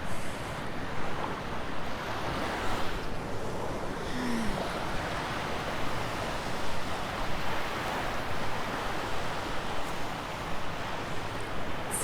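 Ocean waves wash steadily at the water's edge on a Sanibel beach at sunrise and low tide, a continuous broadband surf roar with wind buffeting the microphone throughout.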